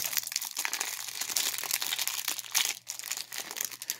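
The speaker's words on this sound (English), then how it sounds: "Open these cards up, see what they do." Plastic wrappers on packs of Champions of Faith game cards crinkle and crackle continuously as they are torn open, close and fairly quiet, with no talking.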